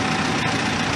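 An Allis Chalmers D17 tractor engine with freshly serviced ignition idles in a steady, dense low chugging, close and continuous throughout.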